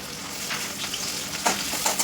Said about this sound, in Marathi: आणि आता टोमॅटो सुद्धा चांगला परतून घ्यायचा.